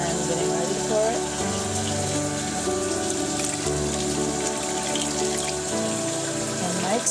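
Vinegar pours steadily while hot salsa is being made, giving a continuous liquid trickle with faint tonal background sounds underneath.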